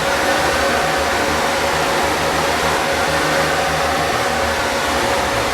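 A Panasonic MC-CG955 canister vacuum with its multi-surface nozzle buffs a heel scuff mark off a hard floor, giving a steady, loud, even airflow roar that holds constant from start to finish.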